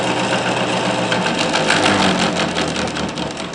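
Homemade pulse motor with a magnet rotor spinning, a loud steady close mechanical whir with a fast pulsing buzz that holds throughout.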